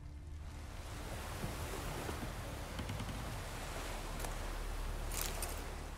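Water in The Witcher 3 video game, a steady, dense wash like surf and moving water that stays even and fairly loud throughout, with no talking.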